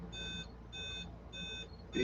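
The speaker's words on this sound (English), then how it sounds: "It's a little more money, but it comes with the speaker that beeps" Three evenly spaced electronic beeps from the kill switch of a Losi DBXL two-stroke RC car sound in a steady rhythm, each a bright tonal burst with short pauses, fairly quiet over low background hum.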